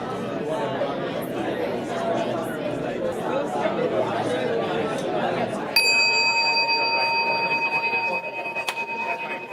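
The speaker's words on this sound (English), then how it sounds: "I'll ring a bell in a couple minutes," Hand bell rung in a room during a partner speaking exercise, a single bright ringing strike that sustains and slowly fades, following a few seconds of many people chattering at once.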